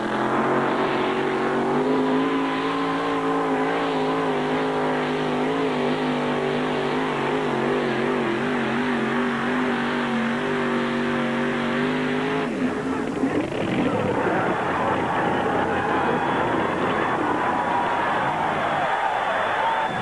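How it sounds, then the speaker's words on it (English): A 607 cubic inch Ford engine in a Ford Aerostar two-wheel-drive pulling van roars loud and sustained at a truck pull, warbling at high revs before the note shifts and strains partway through. "The 607 cubic inch AR Ford engine will come to life."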